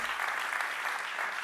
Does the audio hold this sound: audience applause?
yes